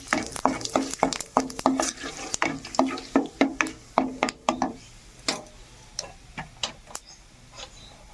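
Whole garam masala, bay leaves and white cumin crackling and popping in hot oil, sharp irregular snaps at close range that thin out and grow sparser as the spices settle.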